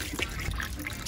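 Water runs quietly into a sailboat's onboard freshwater tank, a soft, continuous trickle and splash with no voices.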